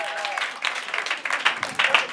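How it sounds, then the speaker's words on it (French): Church congregation clapping and cheering to welcome newlyweds during a service, a short burst of scattered applause with voices mixed in. "nous les souhaitons la bienvenue par des acclamations"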